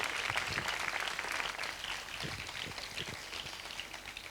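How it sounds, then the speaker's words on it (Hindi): A church congregation applauds at a sermon event, a dense, steady wash of clapping that stays loud throughout and fades slightly toward the end. "आइए हम ज़ोरदार तालियों से इनके लिए इजहार तशक्कुर करेंगे।"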